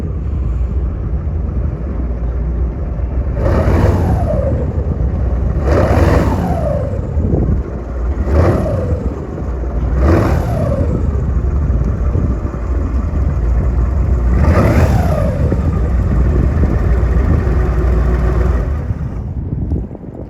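A 36-foot Cape Horn swamp drag boat with a 600 HP engine rumbling loudly outdoors, its deep drone rising in several distinct revs over about twenty seconds, with wind buffeting the microphone.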